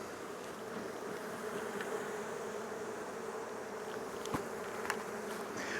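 A dense, continuous hum of many honeybees buzzing around their hives in early September, steady and moderately faint with occasional louder insects passing close.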